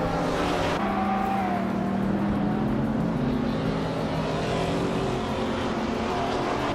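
Racing car engines roaring at a race start at Snetterton in a racing game, led by a 2004 BMW M5, a dense sustained drone of several engines with rising revs and tonal whine, loud and continuous throughout.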